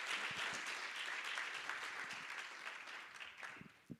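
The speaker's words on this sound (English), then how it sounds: "Please, a big round of applause for Asili Greens." Audience applause after a team's pitch at a startup demo day, a steady wash of many hands clapping that thins toward the end, with a few louder individual claps near the close.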